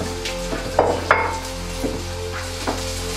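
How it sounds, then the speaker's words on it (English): Two medium onions, finely sliced, hit a pan with only a little oil and fry with a steady, close sizzle, broken by a few sharp clatters of the onions and utensil against the pan. "sliced onions. So this is 2 medium-sized onions finely sliced. I'm going to add that into this oil."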